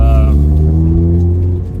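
A 2019 Mazda ND Miata fitted with an Osgiken limited-slip differential drives figure eights in a parking lot, its engine droning loud and close with a steady pitch that eases slightly near the end.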